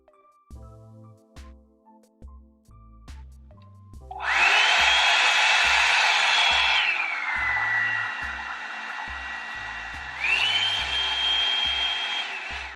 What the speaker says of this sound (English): now that you heard the 3 settings in the blow dryer